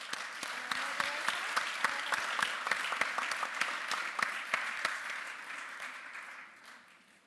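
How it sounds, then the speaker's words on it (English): Audience applause for a climate summit panel, a sustained wash of many hands clapping with dense sharp claps throughout, steady for most of the span before tapering off toward the end. "If you could join me in giving the panel a round of applause."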